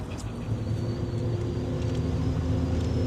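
A truck accelerating on the road, its engine a steady, loud low drone with rushing wind noise, continuous and close from inside the cab, no talking.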